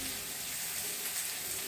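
Sliced onions sizzle steadily in a hot pan on a high gas flame for a Maharashtrian pithla, a continuous close hiss with no talking.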